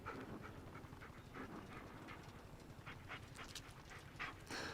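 A dog in the Blair Witch video game pants steadily and close up, quick rhythmic breaths running through the whole stretch with no talk.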